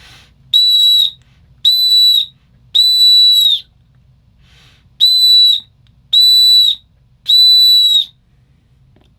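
Six loud, bright blasts from a Kaiser titanium whistle ring out up close in two sets of three, each blow held roughly half a second with quiet gaps between.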